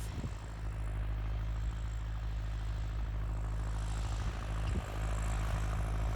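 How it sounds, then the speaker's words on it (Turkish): A steady, droning engine rumbles without pause, loud and low with a constant hum, from a Massey Ferguson 5445 farm tractor running nearby. "Traktörümüz"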